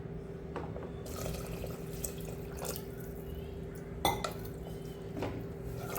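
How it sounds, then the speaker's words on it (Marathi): Water runs and splashes faintly into a metal pot of Indrayani rice for masale bhat, with occasional clinks of utensils against the rim. "1 वाटी असेल त्याला 2 वाट्या पाणी टाकायचं"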